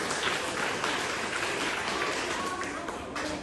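An audience at a poetry competition claps and applauds steadily throughout, a dense, even patter of many hands. Faint voices may be mixed in.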